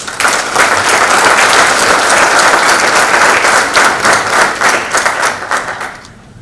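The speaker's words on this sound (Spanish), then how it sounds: "a quien recibimos con un fuerte aplauso" Loud, strong applause from an audience at a legal and human rights lecture event in Peru, dense clapping with individual claps distinct, holding steady before tapering off at the end.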